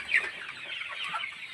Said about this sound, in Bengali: এই যে মুরগিটাকে দেখছো, এটা আছে করকনাথ